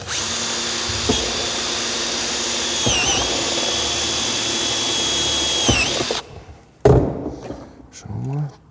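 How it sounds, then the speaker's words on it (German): A power drill whines steadily while boring a cable hole inside a BMW F30/F31 car during a sound system install, pitch dipping under load, then stops and someone speaks briefly. "Und ein Loch reinmachen, damit wir das auch hier durchziehen können. Ein Loch fürs Kabel."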